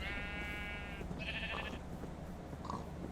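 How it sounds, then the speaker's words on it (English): A sheep in the video game CryptiCraft bleats twice with a nasal, wavering cry, followed by a short, fainter bleat, all over a steady low hum. "Stupid sheep."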